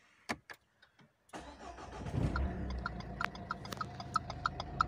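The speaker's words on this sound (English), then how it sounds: "This is what you'll hear if the indicator bulb is blown." On a Renault Scenic III with a blown front indicator bulb, a few clicks give way to the engine starting, then a rapid, regular ticking of the turn-signal relay runs steadily under the idle.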